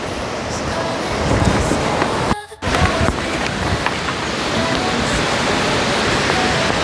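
A mountain-fed river flows at a resort with steady, broadband rushing water, close and continuous, with a brief dropout near the middle.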